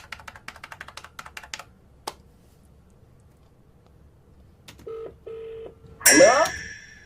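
A telephone number is dialed for a radio prank call: a rapid series of key presses, a lone click, then a pause before short beeps and a bright electronic chirp on the line.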